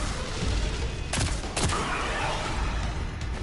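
Hand cannon fire in the Destiny 2 video game comes as a loud, dense run of booming gunshots, with two sharp cracks standing out over a constant rumble of battle noise and no voices.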